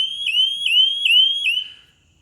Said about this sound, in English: they can see and hear the dock lifeguard alarming